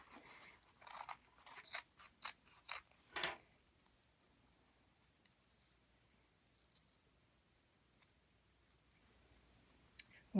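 Scissors cutting shapes out of felt, a quick run of close, crisp snips in the first few seconds, then near silence with faint ticks.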